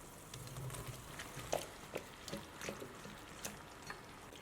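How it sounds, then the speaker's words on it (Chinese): Mixed vegetables for a spicy mala hot pot are stir-fried in a wok. A faint, low sizzle runs under scattered soft clacks and scrapes of the spatula tossing them, and nobody speaks. "把它给翻炒均匀就可以出锅了"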